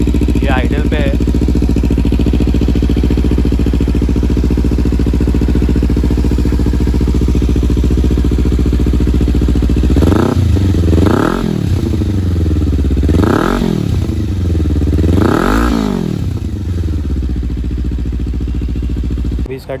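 Kawasaki Ninja 300 sport bike with an aftermarket exhaust, burbling steadily at idle close by, then revved in several sharp blips that rise and fall before it settles back to idle.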